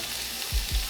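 Minced garlic frying in a pan gives off a short, steady hiss, broken by two soft low thumps, and no voices.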